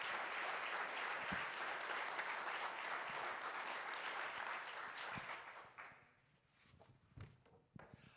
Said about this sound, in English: let's have a round of applause for Lisa J. Mills.